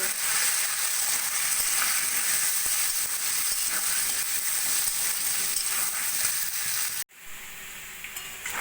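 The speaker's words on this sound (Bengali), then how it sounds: "আমি আলুগুলোকে সোনালি করে ভেজে নেব" Potato pieces fry in hot oil with salt and turmeric, turning golden for an aloo potol dalna; a loud, even sizzle runs for about seven seconds, then drops sharply to a quieter bubbling with a few faint clinks.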